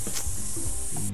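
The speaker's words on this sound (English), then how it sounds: "Go ahead. Spray it." A spray paint can hisses in the school game Bad Guys At School, one continuous bright, loud spray lasting about a second with faint rattling and handling noises underneath.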